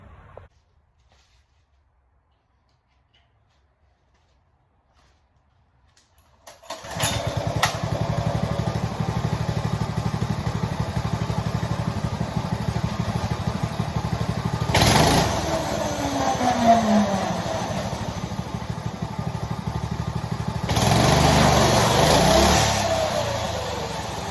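A vintage go kart engine with a newly fitted clutch starts after several seconds of quiet, then runs steadily and nearby, with two sharp rev bursts partway through.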